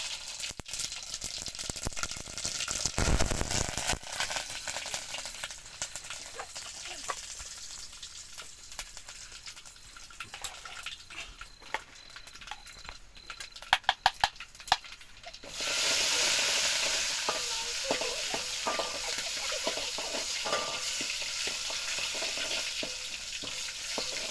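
Mustard seeds and cumin sizzling in hot oil, a continuous crackling fry with popping and rattling, a stirring clatter partway through, then a louder steady hiss for the final stretch.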